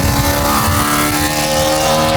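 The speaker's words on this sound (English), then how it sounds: "A BMW V8 with that exotic tone, you know?" An engine-swapped BMW street car with a V8 revs hard in a close flyby, a dense, continuous high-revving wail that stays loud the whole way.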